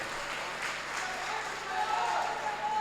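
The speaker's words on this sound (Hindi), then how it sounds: "तालियों के दरमियान एक बार इस्तेकबाल कीजिए" A mushaira audience in a marriage hall applauds to welcome a poet, a soft, steady patter of clapping heard from a distance with a voice faintly present beneath it.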